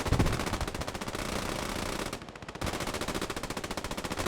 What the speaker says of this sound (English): That's just going to be an endless wave of machine gun fire.